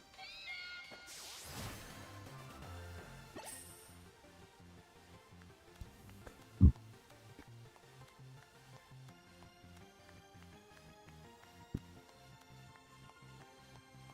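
Meowth, a cat Pokémon in a video game, meowing amid game music and sound effects, with a few short meows and one sharper louder cry standing out over a quiet, busy backdrop.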